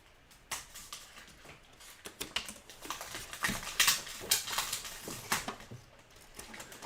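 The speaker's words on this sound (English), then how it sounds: "I'm just going to trim this down with my scissors" Scissors trim the two sides of a stamped card in a series of close, crisp snips, irregularly spaced and growing denser toward the end, with no talking.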